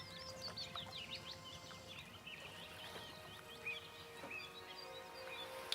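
Birds chirp and tweet through a video game's ambient soundscape, many small calls overlapping at a faint, steady level over a soft background bed.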